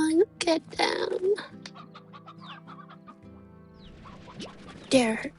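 Chickens in the video game Slime Rancher cluck and squawk in short loud bursts at the start and end, with a quieter stretch of game ambience and electronic tones between them.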